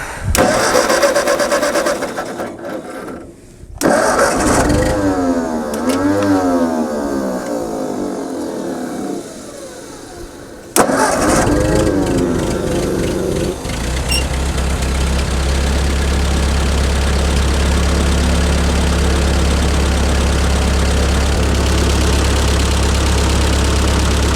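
A 1952 Ford 8N tractor engine cranks over in several bursts with brief pauses, then catches and settles into a loud, steady, low idle that runs to the end.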